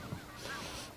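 Geese honk among a flock, a faint, brief call or two rising over a soft, steady background.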